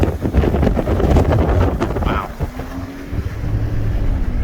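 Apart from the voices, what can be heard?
wind blowing on microphone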